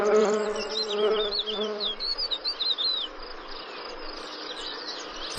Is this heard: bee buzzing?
yes